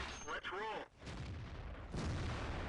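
A tank cannon fires a shell in World of Tanks, a heavy boom followed by rumbling decay and another blast, with someone talking at the start.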